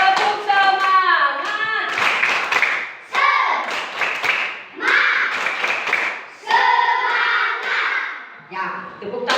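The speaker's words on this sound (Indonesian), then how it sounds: "Tepuk tangan. Tepuk semangat." Classroom pupils doing a rhythmic spirit clap in a lesson on states of matter, bursts of patterned claps mixed with chanting children's voices, loud and close, in several short phrases.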